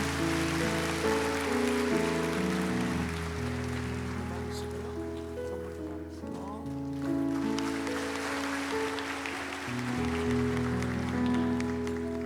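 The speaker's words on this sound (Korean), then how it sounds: "축복의 박수하겠습니다" Broad, rain-like clapping from a large church congregation at a Sunday service, sustained for several seconds over sustained organ-like music tones.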